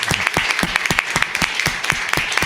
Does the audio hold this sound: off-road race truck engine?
no